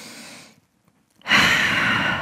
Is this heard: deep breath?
yes